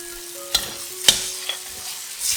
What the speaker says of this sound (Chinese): 加入番茄酱、 辣椒酱，炒均匀。